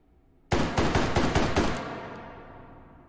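A rapid burst of about six shots from a Unica 6 revolver firing .357 Magnum in the H3VR virtual reality game, loud and close, followed by a fading echo tail.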